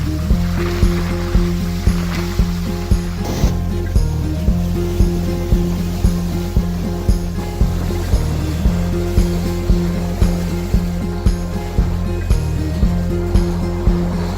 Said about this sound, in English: They have canal boats in the city that take you everywhere